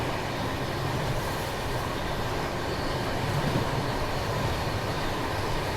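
A goods train rumbles past on the adjacent line with a steady, loud broadband roar that holds evenly throughout, no voices present.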